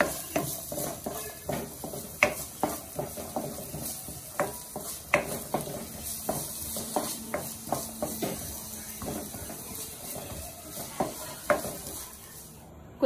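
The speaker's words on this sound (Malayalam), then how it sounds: "കൊച്ചുള്ളി ഒന്ന് വാടി വന്നിട്ടുണ്ട്." Shallots and green chilli sauté in a pan for a Kerala-style mutton curry, with a steady run of close spatula scrapes and taps over a continuous low sizzle.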